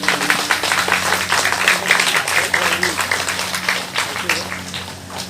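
Crowd applause at a political gathering in Dehri, Rohtas, dense rapid clapping from many hands, loud and close. It swells then tapers off toward the end, with a steady hum underneath.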